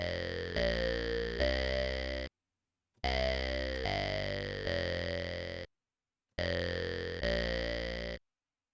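Synth bass patch from the Thor synthesizer in Reason, with drive and chorus applied, plays three sustained phrases of stacked notes with thick, wavering harmonics, separated by short silences.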